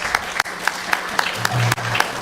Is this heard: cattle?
no